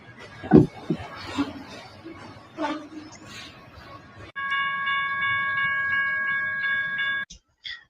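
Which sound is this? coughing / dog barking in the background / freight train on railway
freight train on railway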